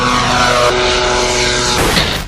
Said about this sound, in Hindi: पहला ड्रोन है अबाबिल 3 जो रनवे से टेक ऑफ करता है।